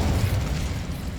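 The Incendio fire spell from Hogwarts Legacy bursts out as a loud, close whooshing blast with a low rumbling roar that holds steady for about a second.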